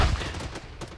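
Gunfire rattles in a first-person shooter game, a short dense burst of shots that trails off over a second.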